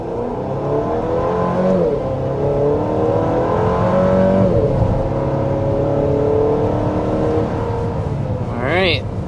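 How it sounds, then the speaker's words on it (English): A 2025 Chevy Traverse High Country accelerates hard toward 60 mph. The engine drone climbs steadily in pitch, drops back at a couple of gear changes, then climbs again under continuous road and cabin noise. "we need to go ahead and start by giving you a hard acceleration"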